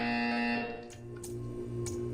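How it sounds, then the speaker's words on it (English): A buzzer in the video game Portal gives a loud, steady electronic tone that fades after about half a second, followed by a few short hissing noises. "You will hear a buzzer."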